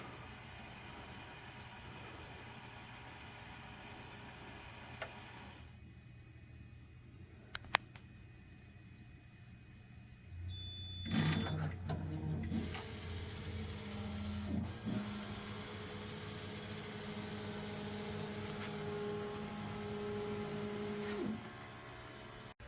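A RefineColor inkjet printer powers up after being switched back on following storage prep, giving a quiet mechanical whir and clicks, then a steady motor hum as its carriage moves, with no voices.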